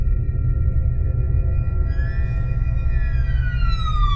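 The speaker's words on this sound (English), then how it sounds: "woke up to the sound of sirens" A police siren in a visual novel video game wails in rising and falling sweeps over a steady low rumble, heard at moderate distance.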